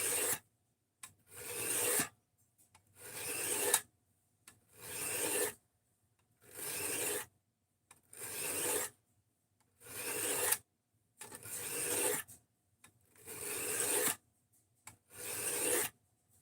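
Knife edge stroked across a sharpening block, about ten rhythmic rasping passes of roughly a second each, separated by brief silent gaps, close and clear with no talk.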